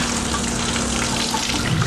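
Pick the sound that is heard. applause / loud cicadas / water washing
water washing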